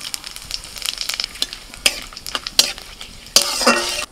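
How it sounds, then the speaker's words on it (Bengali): Dried red chilli, bay leaf and whole cumin spluttering in hot oil as a tempering, a close sizzle broken by repeated sharp stirring scrapes and clinks, ending in a louder burst of crackling. "তেলের মধ্যে ফোড়নে দিচ্ছি শুকনো লঙ্কা,"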